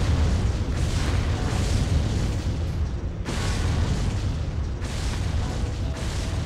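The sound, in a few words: explosions in a video game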